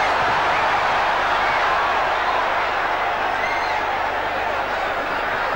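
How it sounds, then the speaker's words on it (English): A boxing crowd at a Thomas Hearns vs Alfonso Hayman fight roars in a steady, loud wash of cheering that holds for several seconds, with commentary talk running faintly underneath. "The crowd loving it."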